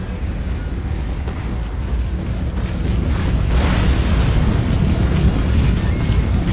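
Artillery and massed infantry fire in a Napoleon Total War battle in a swamp, a dense rumbling wash of distant booms and crackling, rising in loudness midway with no talking.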